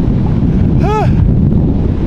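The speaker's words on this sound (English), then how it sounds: "it just got so windy" Strong wind buffeting the microphone at a remote Costa Rican beach town, a constant low roaring rumble throughout, with a brief rising-falling tonal whine near the middle.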